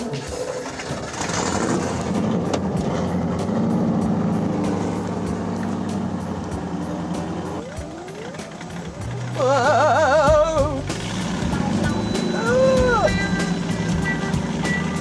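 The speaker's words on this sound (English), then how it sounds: "a chance to get out in a car that floats" An amphibious car that floats drives along with its engine droning steadily throughout, and a second engine joins in. People exclaim over the running motor.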